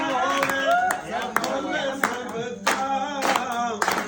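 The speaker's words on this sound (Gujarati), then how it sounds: "બધા ઘડીક તાળીઓ પાડજો" Clapping from a crowd at a Gujarati dayro folk gathering, with steady rhythmic hand claps running all the way through and sharp accents standing out over a sung or chanted voice.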